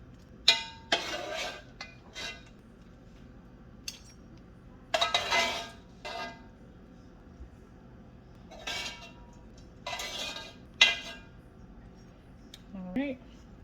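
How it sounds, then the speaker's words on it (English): Pot and utensils clink and scrape in bursts as cooked food is lifted out of a pot, leaving the liquid behind; several separate clusters of metallic knocks, fairly close, with quiet gaps between. "I'm gonna remove this from the pot and leave the liquid at the bottom"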